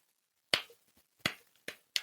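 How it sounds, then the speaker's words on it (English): Four slow, deliberate claps ring out one at a time in a quiet room, spaced roughly two-thirds of a second apart, each sharp and close with nothing else around them. "a slow clap"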